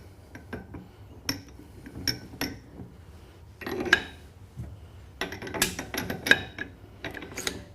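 Big clamping nuts tightened down on a handmade paper press, a series of close metallic clinks, rattles and ratchet-like scrapes arriving in short irregular bursts at moderate loudness.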